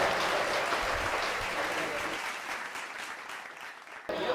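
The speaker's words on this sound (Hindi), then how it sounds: "ताली जोरते बजाओ एक बार" A seated crowd at a farmers' meeting in Shamshabad, Agra, on potato crop management claps for a farmer. The applause is steady at first, then thins and fades.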